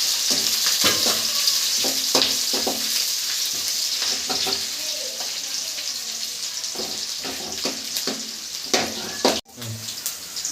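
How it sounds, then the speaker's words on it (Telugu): Garlic is stirred into onions frying in a pan, with a loud, constant hissing sizzle close by and repeated scraping knocks of the spoon, plus one brief sharp clatter near the end. "వెల్లుల్లి వేసేసుకొని బాగా కలుపుకోవాలన్నమాట"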